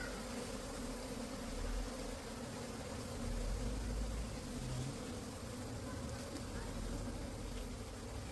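A dense swarm of honey bees buzzes steadily around a plastic can, a continuous loud drone filling the whole stretch with no pauses.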